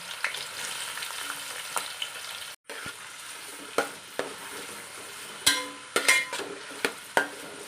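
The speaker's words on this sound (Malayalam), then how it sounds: "2 ട്രിപ്പായിട്ട് വറുത്തെടുക്കാം." Bitter gourd pieces frying in hot sesame oil in a pan, a steady close sizzle with scattered sharp clinks and scrapes of stirring, no voices.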